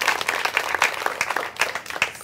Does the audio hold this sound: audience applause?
yes